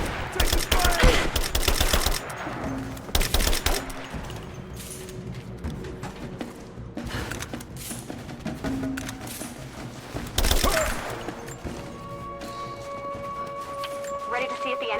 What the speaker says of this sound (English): I'm taking fire! Give me suppressing fire now!